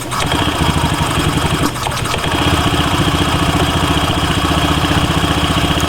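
Small Honda Zoomer X scooter engine with a CVT belt drive idling steadily, a close, continuous mechanical chug with a brief dip in the middle before settling back to an even run.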